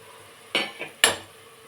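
Spoon stirring coriander and chili powders into a tomato bath mixture in a pan, giving two or three distinct metallic clinks and scrapes against the pan, close and fairly loud with quiet in between.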